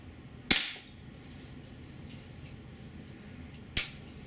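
Two sharp shots from a GAMO P-900 IGT .177 gas piston air pistol, spaced about three seconds apart, each a crisp crack with a short tail over a low background hum.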